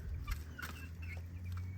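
Amrox chicks cluck softly and intermittently over a steady low hum, heard faintly from a short distance.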